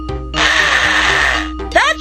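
A loud VTech Drill and Learn toy drill whirs steadily for more than a second, then cuts off, followed by a short high chirp at the end.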